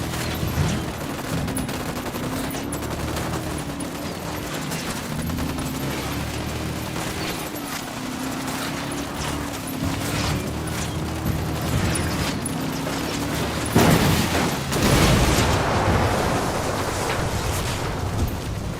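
A firefight in the Ghost Recon Wildlands tactical shooter: loud, continuous rapid gunfire fills the stretch, and a heavier burst of shots and a blast come near the end. There is no talking.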